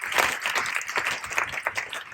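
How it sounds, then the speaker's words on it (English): Applause from the audience at a food and AI conference panel, a short burst of fairly close, uneven clapping that swells and fades over about two seconds. "I think we need to give them a round of applause."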